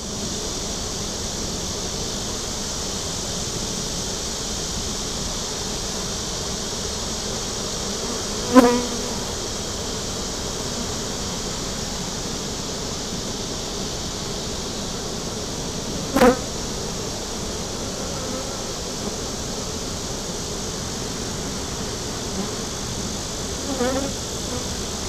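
Honeybees buzzing around an open beehive on a farm, a dense steady drone that fills the whole stretch, with a few soft clicks or bumps now and then and no talk.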